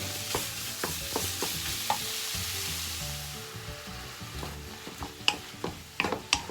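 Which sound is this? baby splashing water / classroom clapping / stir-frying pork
stir-frying pork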